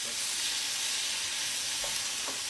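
Tomatoes fry in a pan with a steady, bright sizzle and hiss, continuous and close, with a faint stir or two and no voices.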